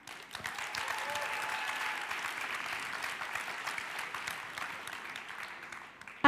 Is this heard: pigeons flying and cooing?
no